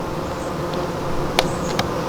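A steady, low buzzing of many honeybees close by at a hive frame while splitting nucs, with a few brief clicks and taps near the end.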